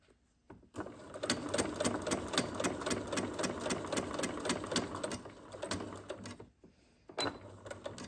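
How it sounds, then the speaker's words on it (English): A sewing machine stitches an elastic waistband along a folded line in one fast, even run of needle strokes lasting several seconds, then stops and gives one short final burst. "So let's take it to the sewing machine."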